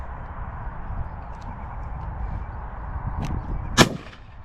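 A single sharp shotgun blast rings out in open countryside during crow and pigeon shooting, preceded by a fainter crack and a steady outdoor rumble of wind.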